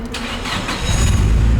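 Nissan Silvia S14 engine cranking on the key and catching, a brief starter whir followed by the engine firing and swelling into a loud, close idle with no one speaking.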